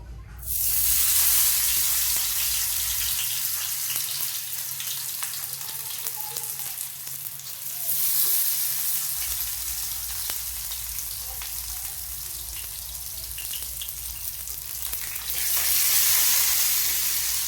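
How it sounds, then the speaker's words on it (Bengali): Pumpkin-leaf paturi parcels fry in hot oil in a frying pan, giving a steady, loud sizzle that fills the whole stretch, swelling at moments with a low rumble underneath early on. "এবার তেলটা গরম হয়ে গেছে, এবার জোর কমিয়ে আমি একটা একটা করে পাতুড়ি দিয়ে দেবো।"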